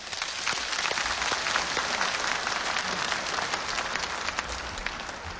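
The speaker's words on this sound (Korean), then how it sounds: "다시 한번 뜨거운 환영의 박수를 보내주시기를 빌겠습니다." Dense, steady applause from an audience at a ssireum (Korean wrestling) tournament ceremony in Cheonan, a thick continuous wash of many hands clapping at even loudness throughout.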